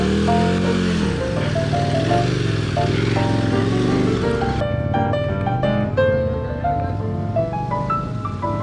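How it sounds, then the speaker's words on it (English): Yamaha XT motorcycle climbing a hill on its back wheel, a loud, close engine roar that rises and falls as the throttle changes, running continuously throughout. "she rides the Yamaha XT up this hill on the back wheel"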